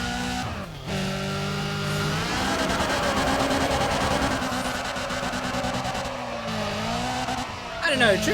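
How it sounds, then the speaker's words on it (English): Car drifting in the Need for Speed ProStreet racing game, with loud continuous engine roar and sustained tire squeal lasting several seconds, a brief dip near the start and a sharp burst of skidding at the end. "drifting seems quite easy now"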